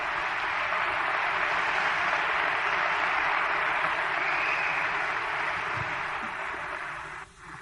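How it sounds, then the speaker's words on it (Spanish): An audience applauds steadily throughout, a dense, sustained clapping that holds at a fairly even level. It tapers slightly and cuts off near the end. "Qué bueno que aplaudiste."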